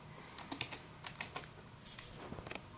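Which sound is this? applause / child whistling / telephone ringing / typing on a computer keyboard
typing on a computer keyboard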